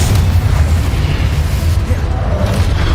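A Confringo explosion spell in Hogwarts Legacy, a loud sustained booming rumble that stays dense and heavy throughout, close and forceful, with a voice faintly mixed underneath.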